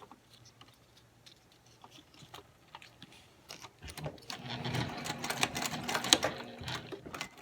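A sewing machine stitching fabric pieces for a Christmas gift bow, faint and light at first, then building into a quicker, louder pattering run toward the end.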